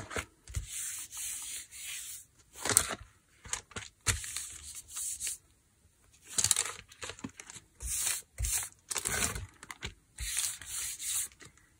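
A paper envelope rubs across a gel printing plate to mop up paint, making repeated close, loud scratchy swipes in bursts with short pauses between strokes.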